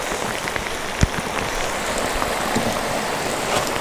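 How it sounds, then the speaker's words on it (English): Heavy rain pattering on water and a kayak during muskie fishing at Cave Run, a dense, steady hiss of drops close by with one brief louder knock partway through. "Wow, a lot of rain,"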